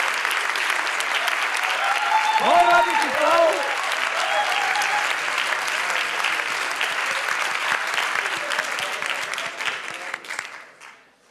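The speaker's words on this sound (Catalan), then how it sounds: "Vine, un aplaudiment per tu." An audience gives steady applause at a live show. A voice speaks briefly over the clapping early on, and the sound fades out at the end.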